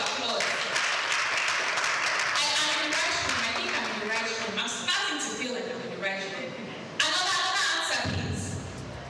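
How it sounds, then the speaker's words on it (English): Audience at a business conference on African credit infrastructure giving a round of applause, a dense sustained clapping that thins out as a speaker's voice takes over. "Lead by a round of applause."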